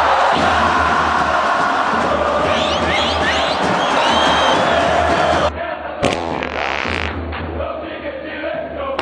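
Santos football supporters at Vila Belmiro raise a loud, dense crowd roar with cheering and shouts that carries steadily, then dips and shifts briefly before surging again.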